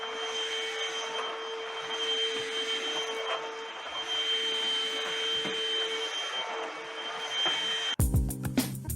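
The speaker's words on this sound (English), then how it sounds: "So I'm just going to vacuum where it's going to go." Vacuum cleaner running steadily over a lounge room floor, a loud continuous motor whine with a high tonal hum throughout, ending abruptly in a clatter near the end.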